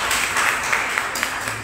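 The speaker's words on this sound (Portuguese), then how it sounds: "vamos dar uma salva de palmas para Jesus" A church congregation breaking into applause for Jesus during a worship service, a dense crowd clapping briefly and steadily with scattered sharper claps.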